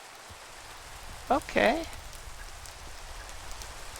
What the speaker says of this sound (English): Oh, he went away, and now it's raining.